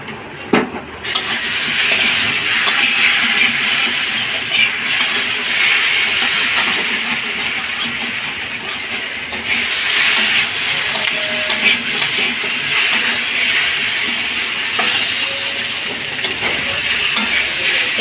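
Spices being fried in a pan with very little oil for a Bengali cauliflower curry, a steady loud sizzle and hiss running throughout with occasional stirring scrapes, no voices.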